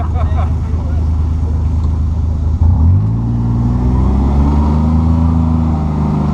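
A Kawasaki Mule Pro-FXT utility vehicle drives along a trail with a loud, close engine drone that dips briefly, then rises through climbing revs, under wind rush and some talking.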